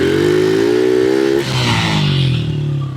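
A motorcycle with an opened-up air filter pulls hard through second gear, engine note climbing loud and close before a quick shift and a renewed rising roar.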